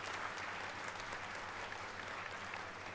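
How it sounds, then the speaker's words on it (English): An audience at an architecture school convocation applauds degree recipients, a dense, even wash of many hands clapping heard from a distance at low level, with no speech over it. "All of you may please applaud for the degree recipients of Master of Architecture Landscape."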